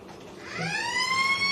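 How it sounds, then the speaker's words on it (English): A halftime siren at a country Australian rules football match between Boxwood Hill and Lake Grace/Pingrup. It rises into a loud, sustained, bright wail that holds steady over faint crowd ambience. "And that's the halftime siren."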